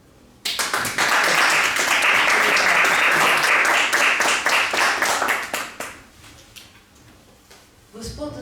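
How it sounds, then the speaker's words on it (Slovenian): A seated audience at a book launch claps for the author, a sustained round of applause starting abruptly, holding steady for about five seconds and then thinning out, with a voice resuming near the end. "Vsekakor pa moramo vsi najprej izreči velik aplavz današnjemu gostu, avtorju,"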